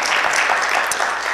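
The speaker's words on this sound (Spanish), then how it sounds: "¿Cuántos le damos un aplauso al Señor?" A church congregation claps together in a broad, dense burst of applause that stays loud and even for the whole moment, with no voices standing out.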